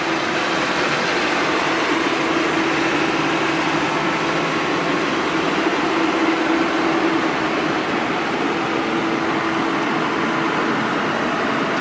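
A 1998 Samsung SE210W-2A wheeled excavator engine runs at a steady idle, a constant broadband rumble with a faint mechanical whine, heard close and alone without speech.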